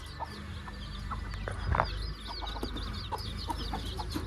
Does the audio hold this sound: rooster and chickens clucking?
yes